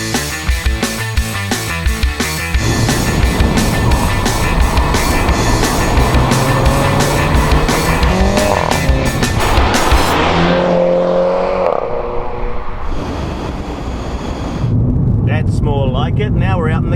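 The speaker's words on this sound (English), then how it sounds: "it gives you a little bit more burble from the exhaust, a little bit more feedback from the exhaust" MINI Cooper S John Cooper Works in sport mode driving out on a country road, exhaust burbling and revving steadily under continuous engine noise, with someone talking over it throughout.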